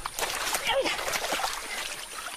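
A large anaconda is hauled out of the water with close, busy splashing and sloshing as its heavy body drags through it. Faint voices can be heard in the background.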